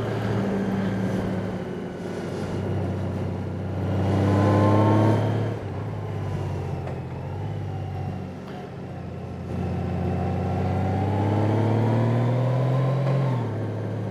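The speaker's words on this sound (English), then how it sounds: "I'm downshifting into second every now and then." A 2018 Honda Goldwing touring motorcycle rides a winding mountain road in low gears, its engine droning steadily with rising and falling pitch as it downshifts and pulls, heard close with no talking.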